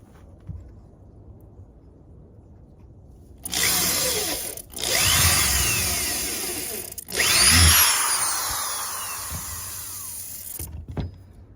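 A power drill runs in three close, loud bursts into a board, its pitch rising and falling as it bites into material, with quiet gaps before and after.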